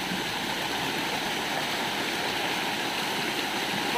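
Fast-flowing river current rushes through a stone cave on the Cinangneng river, a loud, continuous, even roar of churning water with no pauses or voices.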